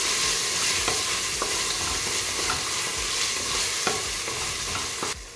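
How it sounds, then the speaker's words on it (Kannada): Onion and tomato fry in a pan for tomato bath, a steady loud sizzle with occasional scrapes and taps of stirring throughout, heard close with no talk. "ಇವಾಗ 1 ಟೊಮೆಟೊ ಹಾಕೊತಾ ಇದ್ದೀನಿ."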